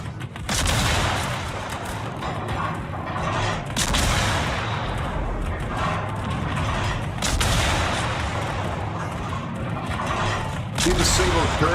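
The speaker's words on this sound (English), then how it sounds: "Who's shooting at me?" Naval gunfire in the World of Warships video game: a dense, continuous barrage of heavy booms and rumbling blasts, loud and close, running the whole time with a voice talking over it.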